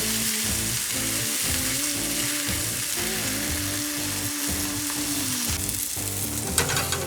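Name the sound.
tortilla with melting cheese frying until crusty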